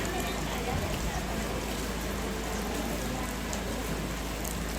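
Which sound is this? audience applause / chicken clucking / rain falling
rain falling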